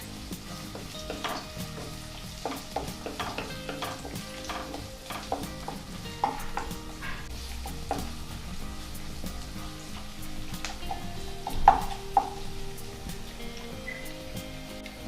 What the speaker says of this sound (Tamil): இப்போ நம்ம கேப்சிகம் போடலாம்.